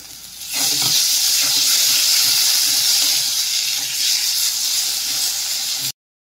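Tomatoes and green chillies hit hot oil with onions and ginger paste for prawn malai curry, bursting into a loud, steady, close hiss that holds for several seconds before cutting off abruptly.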